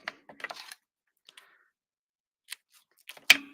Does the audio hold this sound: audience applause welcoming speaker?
no